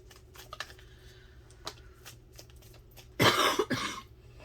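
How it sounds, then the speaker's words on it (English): A single loud cough bursts out near the end after a quiet stretch of small clicks and faint tapping. "Sorry for all the coughing."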